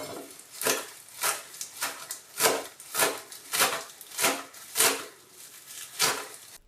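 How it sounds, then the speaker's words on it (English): A knife rhythmically chops parsley leaves on a wooden board, about a dozen crisp, close strikes at a steady pace, with no voices. "Fold the leaves and with a knife, chop it roughly to reduce its volume."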